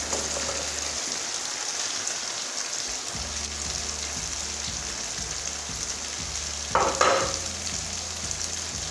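Chicken feet going into frying masala in a pan, a low steady sizzle under a regular stirring rhythm, then a brief louder clatter and burst of frying as they are added, no voices.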